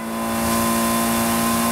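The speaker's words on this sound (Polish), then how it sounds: "Ale już się silnik kopci przy tej prędkości." A car engine in the Fortnite video game droning steadily at top speed, a loud continuous hum with a strained, rough edge and no let-up.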